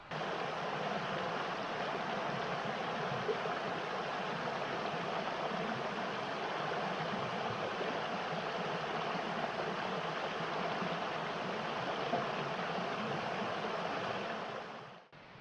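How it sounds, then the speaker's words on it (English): Steady rain falls on a forest campsite in the Harper Creek area of Wilson Creek, Pisgah National Forest, a constant even hiss with faint scattered patters, continuing unbroken until it cuts off abruptly at the end. "The rain is starting to fall now."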